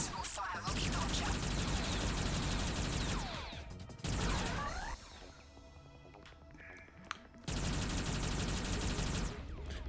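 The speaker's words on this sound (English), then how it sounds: "Multiple fire rocket launcher." A multiple-fire rocket launcher in Forsaken Remastered, a futuristic shooter, fires in loud sustained bursts: a rapid stream of blasts, a brief break with scattered impacts, then another long volley, all close and harsh.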